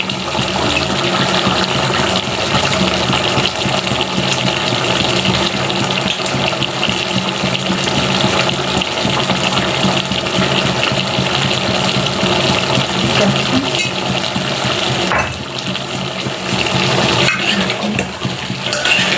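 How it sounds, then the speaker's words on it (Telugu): Water pours steadily into a pot of keej chicken curry, a loud continuous rushing stream that holds nearly unbroken for the whole stretch with a brief dip near the end. "మళ్ళీ వాటర్ వేసాను"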